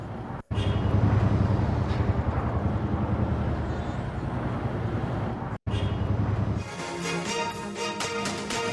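Chinook helicopter in flight produces a loud, steady roar with buffeting wind noise, briefly cutting out twice, then shifting to a pulsing, rhythmic tone near the end.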